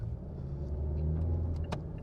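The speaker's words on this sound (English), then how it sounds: "It's a Mazda CX-9, 2015 year" A 2015 Mazda CX-9 driving, heard from inside as a steady low engine and road rumble with a continuous hum and no voices.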